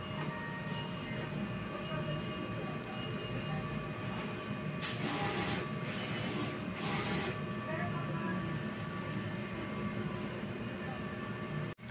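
A DTF printer running a nozzle test gives a steady mechanical whir with a faint rhythmic clatter and a few brief louder bursts, under a room hum, with a person speaking quietly.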